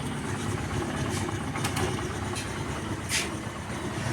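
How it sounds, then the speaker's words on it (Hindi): A scooter engine, just rebuilt with new main bearings and connecting rod work, idles steadily with a low, even rumble throughout, broken only by brief higher hisses. "और अभी जो है इंजन का आवाज़ बहुत ही अच्छा आ रहा है।"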